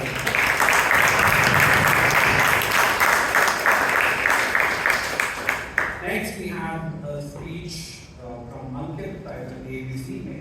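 An audience at a Toastmasters club meeting in Bangalore breaks into loud, sustained applause for several seconds; it fades after about six seconds, as a voice begins speaking.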